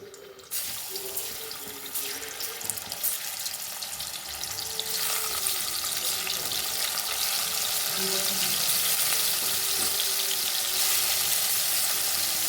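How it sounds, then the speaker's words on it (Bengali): Chicken pieces dropped into hot oil for chicken fried rice, a loud continuous sizzle that builds and holds steady, close and without talk. "এই যে তেলটা গরম হয়ে গেছে এবার এই চিকেনগুলোকে সব দিয়ে দেবো"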